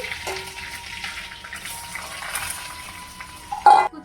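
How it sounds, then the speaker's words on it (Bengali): Mustard oil in a kadai sizzles with whole cumin, a bay leaf and chopped onion, a steady close frying hiss with a brief louder clatter near the end, no voices. "কড়ার মধ্যে সরষের তেল দিয়ে দেবো, গোটা জিরে, একটা তেজপাতা, পেঁয়াজ কুচি"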